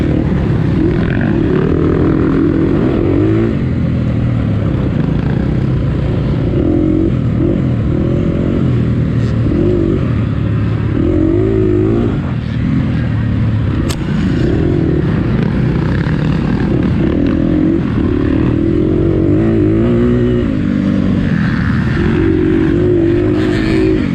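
Dirt bikes roaring past in an AMA District 14 hare scramble trail race near Portland, a loud close engine drone with revving surges throughout, no talking.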